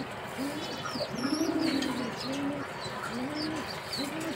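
Pigeons cooing during home treatment of a young pigeon's pox, with repeated soft, throaty coos in a steady rhythm, faint chirps above, heard close without speech.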